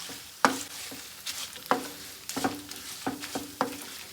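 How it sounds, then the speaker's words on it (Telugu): Malabar spinach (bachali kura) frying in a pan, a steady faint sizzle broken by several sharp stirring scrapes and knocks at uneven intervals, heard close with no talking. "ఇక నెక్స్ట్ బచ్చల కూర ఫ్రై చేసుకుంటాం"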